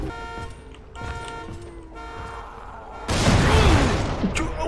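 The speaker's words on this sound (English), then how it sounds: "I'm taking so much damage from these explosions." Explosions go off in a zombie video game. Horn-like tonal blasts repeat a few times, then a loud, broad roaring boom surges in and rumbles on, close and dominant.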